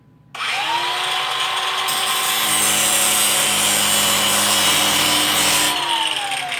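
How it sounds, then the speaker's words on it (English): A power cutting tool grinds a screwdriver slot into a small metal part from a broken microwave, a loud, continuous, rasping whine that starts abruptly and holds steady for about six seconds close by, with no talking. "We're actually going to take this down here and put a slot in it for a regular screwdriver"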